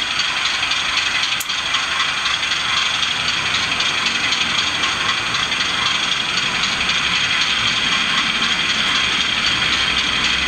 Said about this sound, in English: And there you can hear the revs climb again.